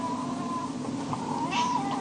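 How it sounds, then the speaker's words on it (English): A cat meows for attention indoors, with a faint drawn-out cry against a steady low hum. "And I have a little puss asking for fuss."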